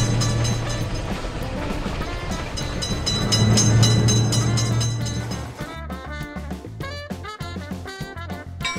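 A train passes an Indian railroad crossing in a driving video game: a loud rumbling roar builds and fades, then gives way to rhythmic clattering wheel clicks over the rails.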